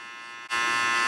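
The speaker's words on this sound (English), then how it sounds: "I always look at this corner of the clipper so I know where I'm going." A detachable hair clipper buzzes steadily during a fade haircut, a close, loud electric hum that briefly dips before settling into a continuous drone.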